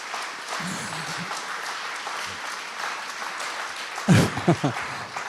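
Audience applause at a live podcast recording with writers, a steady patter of clapping held at moderate level, with voices speaking over it toward the end.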